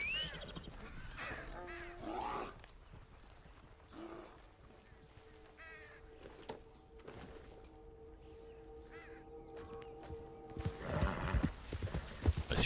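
Horse hooves clip-clop in Red Dead Redemption 2, with a few whinnies scattered through a busy game soundscape, moderately loud and close, while bursts of louder noise rise near the end.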